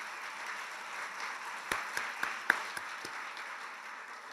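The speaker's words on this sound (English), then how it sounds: "Can we give him another round of applause?" A business conference audience gives a speaker another round of applause, a soft wash of clapping with several sharper, nearer claps popping out midway.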